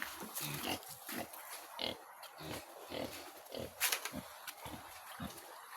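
Repeated low grunts from a wild boar, close by, in an irregular series, with faint talk in the background.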